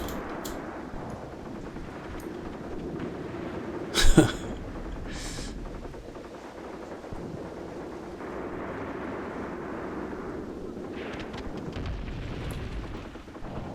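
Gunfire in the WWII tactics video game Graviteam Tactics: one sharp, loud shot stands out early against a steady rumbling battlefield background, with a few fainter distant reports scattered around it.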